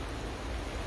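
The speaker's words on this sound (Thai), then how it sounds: "เพราะว่าฝนมันตก" Rain falls steadily outdoors over a vegetable garden with kale, cucumbers in woven baskets and marigolds, making a constant dense hiss with no breaks.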